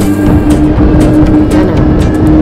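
A jet taking off at Haneda Airport, heard from the observation deck as a loud, continuous low roar with a steady engine drone, filling the whole short stretch without a break.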